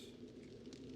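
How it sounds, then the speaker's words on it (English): A soft cooing bird call rings out in the survival video game 7 Days to Die at night, faint and steady under a dense ambient background. "I hear a bird."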